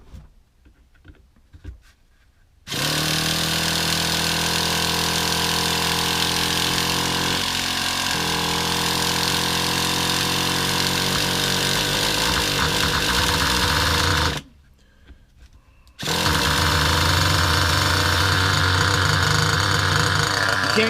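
Traxxas Slayer nitro RC truck engine running on its first outing, a loud, steady, high-pitched buzzing whine held for long stretches, cutting out briefly and then restarting just as loud.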